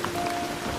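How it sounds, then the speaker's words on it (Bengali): Heavy animated downpour falls as a dense, even hiss of rain, brief and steady. "চারিদিকে মুষলধারে বৃষ্টি নামছে।"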